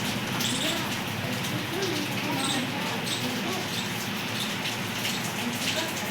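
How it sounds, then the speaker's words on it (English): Steady rain falling outdoors, a dense continuous patter with scattered drops close by and no voices over it. "Now you could see the rain."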